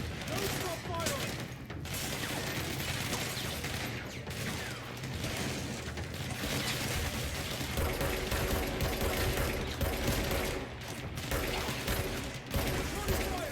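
Dense, continuous gunfire from the video game Control crackles through the whole stretch in rapid bursts, loud and close, with voices breaking in now and then.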